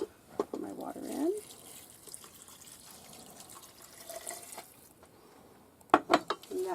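Water runs from a tap into a cooking pot for beef bouillon, a brief splashing fill near the start, then quieter kitchen handling with a few clinks and knocks toward the end.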